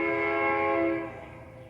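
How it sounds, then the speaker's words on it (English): A train horn blares close by over a garden for about a second, a chord of steady tones that then fades as the train passes, with a low rumble underneath. "Excuse me, train."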